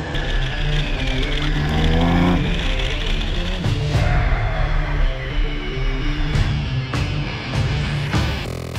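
A Ford Focus RS Mk3 fitted with Whiteline sway bars lapping the Utah Motorsports Campus track: a loud, continuous engine roar rising and falling with acceleration, gear shifts and brief lifts, heard close from the car, with no speech.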